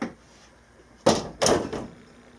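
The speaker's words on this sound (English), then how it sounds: "Shut the door." An indoor door is pushed shut during a casual filming setup, giving two quick, solid thuds about a third of a second apart against a quiet room, with no talking.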